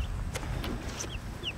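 A backyard chicken in a chicken tractor gives a few short, nearby clucks. Faint high chirps of other birds come through in the background.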